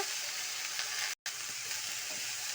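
Green gram (moong beans) tipped into hot oil in a frying pan, giving a loud, steady sizzle with a brief break partway through.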